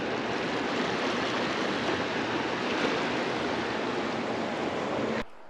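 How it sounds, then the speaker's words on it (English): A fast-moving river, deep in this spot, rushes steadily with a dense, even roar of flowing water heard up close and unbroken until it cuts off near the end. "Beautiful sound. Very soothing to hear the river."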